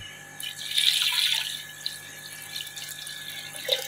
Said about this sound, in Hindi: तो अभी पानी थोड़ा कम है तो थोड़ा पानी और डालते हैं।